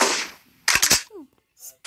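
A Glock pistol fires in a video game, a sharp close report with a short echoing tail, followed by brief faint game sounds.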